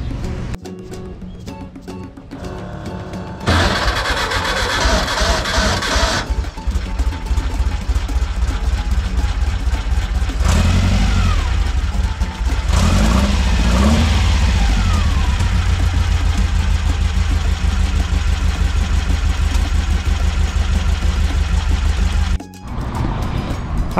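A VW bus engine fitted with HPMX carburetors warms up loud and close, idling roughly at first, then holding a steady, higher-revving drone with a few swells in pitch before it briefly cuts near the end.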